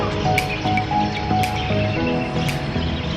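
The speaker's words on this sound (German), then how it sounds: "Wir hören schon mega viele Vögel und Tiere, die am Aufwachen sind." A dawn chorus of many birds and animals waking in Kakadu National Park in Australia, with chirps, whistles and insect buzzing layered at a moderate distance over a steady outdoor background.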